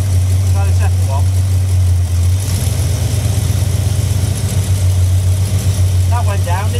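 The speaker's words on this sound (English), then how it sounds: "we think the engine's got a bit more vibration on it than a V8 normally has" A Dart V8 car engine idles loud and close with an uneven, shaking pulse, as if it may be misfiring, while voices talk over the running motor.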